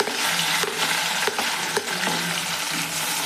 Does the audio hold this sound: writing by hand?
no